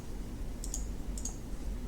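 Two faint, crisp computer mouse clicks about half a second apart, made while working in 3D-printing slicer software, over a quiet background hum.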